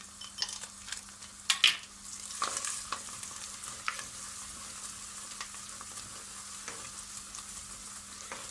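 Tomato paste with chili powder frying in a pot for an Erzurum haşo dish, a quiet steady sizzle broken by a few sharp scrapes and clinks of stirring near the start.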